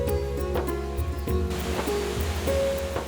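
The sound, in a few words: waterfall flowing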